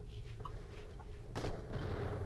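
Crates blow up in the video game Borderlands: The Pre-Sequel, one sharp explosive burst standing out over a dense, rumbling game soundscape with fainter pops earlier.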